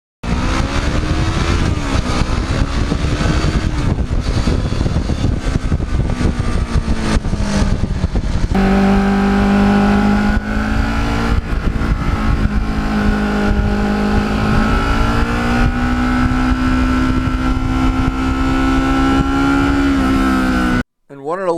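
Engine of a black Kawasaki Ninja motorcycle pulling hard through the gears on an open road, loud and close, the revs climbing, dropping on a shift, then rising again in a sustained high-pitched wail.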